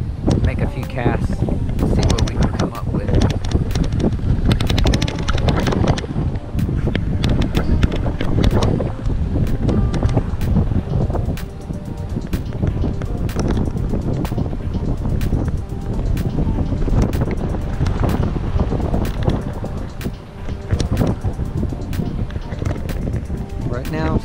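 Gusts of wind buffet the microphone with loud, rumbling thumps and crackles throughout while bass fishing, with a voice speaking underneath at times.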